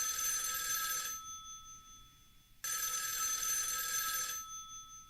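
An old telephone rings out in two long, steady buzzing rings with a quiet gap between them, heard faintly over a low background hum with no voices.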